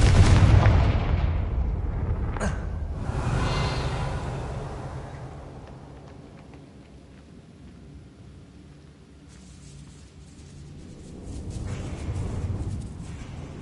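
The Confringo spell detonates in Hogwarts Legacy on PS5 as a heavy, rumbling explosion with a sharp crack, decaying into a long low rumble before a second swell of booming noise, with no speech.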